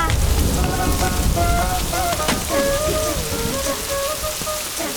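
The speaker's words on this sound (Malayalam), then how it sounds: "കണ്ണൻ ചേട്ടാ, അതേ നല്ല മഴ വരുന്നുണ്ടാ, നനഞ്ഞ് തീയുന്നു." Heavy rain pours steadily in a scene from a Malayalam film, a dense, loud hiss of drops on surfaces that fills the whole clip, with faint tonal music drifting over it and no speech.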